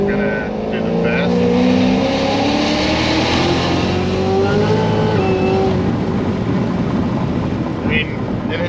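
An 850+ hp Cadillac CTS-V on stock tires accelerating hard in third gear, its loud engine note climbing steadily in pitch and staying close and powerful throughout.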